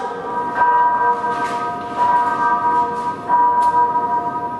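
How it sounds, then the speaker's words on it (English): Church bells ringing in a stage play, with sustained tolling tones and several soft, evenly spaced strikes heard at a distance, no voices. "she's probably in that church ringing out those bloody bells."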